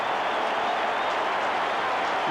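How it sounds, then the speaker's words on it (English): A stadium crowd at a 1995 Australian football match between North Melbourne and Richmond applauds in a standing ovation, a dense, steady roar of clapping and cheering filling the air with no pauses. "Richmond, you are getting a standing ovation."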